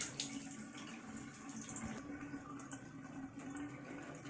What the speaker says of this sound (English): You can see the water starting to go down pretty quick.